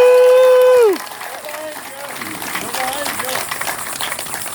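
Outdoor Back Our Blue rally crowd at the Liberty Bell's Memorial Museum cheering and clapping, a broad roar of voices following a brief shout from the speaker.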